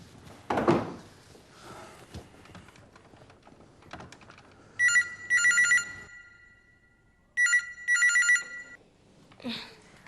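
A phone rings electronically in two bursts of double trills separated by a pause, following some quiet tapping and thumps in a still room.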